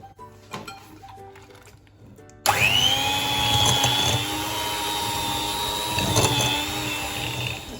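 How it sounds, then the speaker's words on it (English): An electric hand mixer whisks mascarpone cheese into a creamy cheesecake filling: light clinks and handling at first, then the motor starts abruptly and whirs steadily and loudly with slight pitch shifts. "I'm going to whisk these together."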